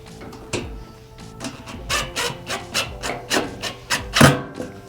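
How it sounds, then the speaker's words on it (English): A screw is driven into a Charger stealth diffuser fin with a close series of rhythmic creaking, grinding turns that grow louder, ending in one sharp scrape. "And now we can put that screw all the way in."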